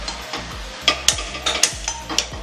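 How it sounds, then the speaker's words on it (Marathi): Dry spices for Kolhapuri misal masala being roasted in a pan on a gas stove, with a spoon scraping and tapping against the metal in quick, irregular strokes, close and fairly loud. "मी गॅसवर एक पॅन ठेवलाय, त्यामध्ये मी आता सगळे हे मसाले घालून घेणार आहे आणि भाजून घेणार आहे"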